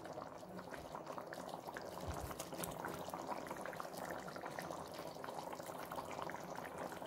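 A pot of spicy onion kosu curry boils under its lid, with curry leaves and coriander just stirred in. It bubbles and hisses steadily and close, with no voices.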